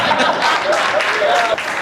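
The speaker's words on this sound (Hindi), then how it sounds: "अच्छा, ऐसे ही ताली बज गई जैसा आपने बजाई" Audience at a Hindi poetry recital bursts into brief, dense applause, a steady wash of clapping with a little laughter mixed in, lasting under two seconds.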